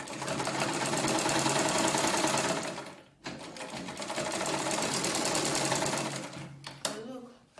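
Close and loud, a sewing machine joins corset fabric pieces in two long steady runs separated by a brief pause, then a few clicks and handling sounds at the end.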